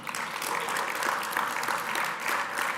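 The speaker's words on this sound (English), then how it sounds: "Keep those applause coming" Audience applause at a network operators' meeting, steady broadband clapping from a sizable crowd filling the room throughout, with no break or talk standing out.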